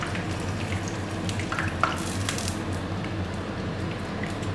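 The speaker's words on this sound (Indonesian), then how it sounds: "jadi aku tahunya itu aku goreng seperti ini" Tofu frying in oil in a pan, a steady close crackling sizzle with scattered pops and the occasional stir, continuous throughout with no talking.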